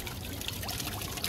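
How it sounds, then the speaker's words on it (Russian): Water pours steadily from a copper fountain in a continuous soft splash and trickle for a moment, fairly faint and heard on its own. "Вот такой фонтан."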